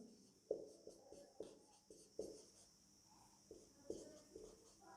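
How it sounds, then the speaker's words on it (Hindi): Chalk or marker strokes on a board during a Class 12 physics lecture, a run of short scratchy taps and scrapes in an irregular rhythm, close and fairly quiet with no talk over them. "तो हम यहां पे लिखते हैं"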